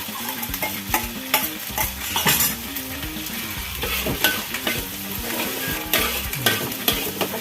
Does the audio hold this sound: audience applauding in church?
no